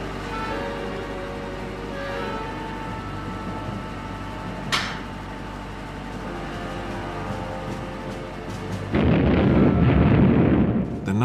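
Explosive charges detonate during wartime sabotage, a heavy rumbling blast rising late and roaring loudly for a couple of seconds after a dense, sustained din.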